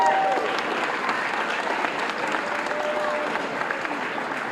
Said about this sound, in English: how about we give a round of applause to all the staff who do an amazing job at Goodwill